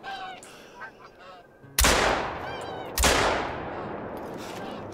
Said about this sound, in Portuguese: Mas tá vindo uns ganso, hein?